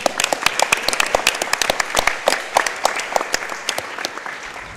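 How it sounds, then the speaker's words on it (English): Applause from a small audience at a speedrunning event, a steady run of hand claps, fairly close and lively, with no talking. "That deserves a clap."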